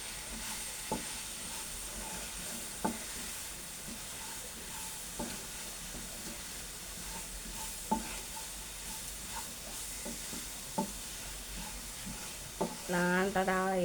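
Onion curry masala is stirred in a pan over a steady frying sizzle, with soft scraping spoon strokes at irregular intervals and a brief burst of talk near the end.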